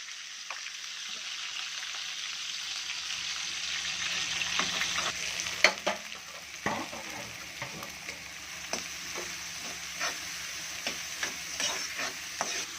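Onions and green chillies sizzle steadily in oil in a pan as they are added and stirred, with scattered crackles, pops and scraping sounds.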